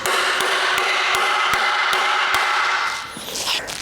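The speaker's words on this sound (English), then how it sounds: "What you do is you hammer it on there." Steady metallic hammer strikes drive a Snap-on turbo socket onto a stripped, rounded-off bolt during disassembly of a 1992 BMW E34 M5 S38B36 engine, about eight evenly spaced ringing taps over a constant background hum, ending in a brief squeal.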